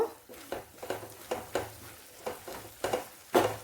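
A chicken and vegetable stir fry is stirred in a pan, with a series of about eight regular scraping strokes, each followed by a soft sizzle, close and fairly quiet.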